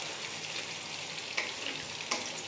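Ingredients for a Bengali chicken curry fry in a pan with a soft, steady sizzle, quiet and close, broken by a couple of brief clinks of stirring.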